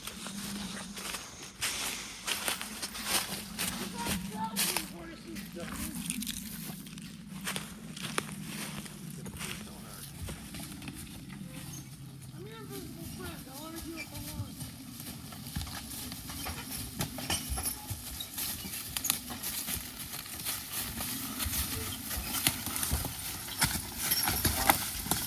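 A heavyweight Belgian horse walks through the woods while working, its hooves clip-clopping steadily and close by over a low, continuous outdoor rumble for the whole stretch.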